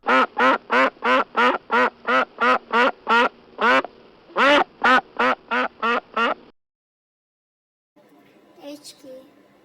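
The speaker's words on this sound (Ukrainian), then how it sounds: "Утка" A duck quacks in a fast run of about a dozen loud, evenly spaced calls, then another burst of several more, followed by silence and a faint low sound at the end.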